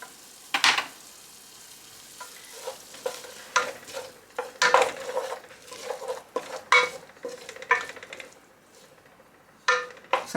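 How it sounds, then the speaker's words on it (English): Dried herbs such as oregano and sage sauté in butter over very low heat, with a soft steady sizzle under scattered clinks and scrapes of a utensil stirring against the pan. "so I'm just going to leave it here to be sauteed on a very low heat"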